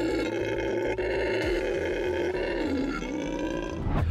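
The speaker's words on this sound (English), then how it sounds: "the thing that makes the old howler monkey stand out from the primate crowd is, of course, its big, loud voice" A howler monkey howls, a loud sustained deep roaring call that rises and falls over several seconds and sounds close and powerful.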